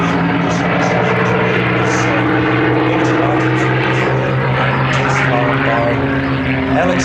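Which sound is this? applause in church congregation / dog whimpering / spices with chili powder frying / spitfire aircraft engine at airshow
spitfire aircraft engine at airshow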